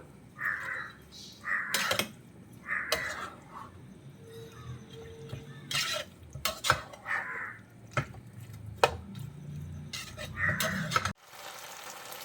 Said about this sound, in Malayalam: കോളിഫ്ലവർ ചേർത്തിട്ട് നന്നായിട്ടൊന്ന് മിക്സ് ചെയ്ത് കൊടുക്കാം.